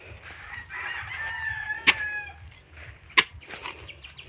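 Chickens cluck on a farm while a rooster crows, with a drawn-out call and a couple of sharp, loud squawks standing out against steady clucking in the background.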